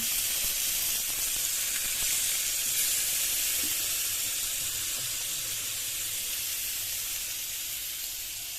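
Paneer pieces sizzle on a grill lightly oiled with a couple of drops of olive oil, giving a steady, even hiss at moderate level that fades slightly toward the end, with no voices.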